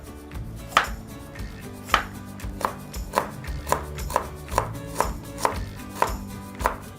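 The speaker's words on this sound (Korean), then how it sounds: "당근을 썰겠어요." A knife slices carrots on a cutting board for vegan bibimbap, giving about a dozen crisp, evenly spaced chops in a steady rhythm, close and clear with no talking.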